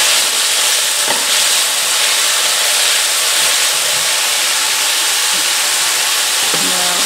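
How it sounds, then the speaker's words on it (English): Chopped garlic sizzles and sautés in a pot for soup, a loud, continuous hiss of frying with occasional faint clinks of a utensil near the end. "Get them sauteed a little bit. The chopped up garlic."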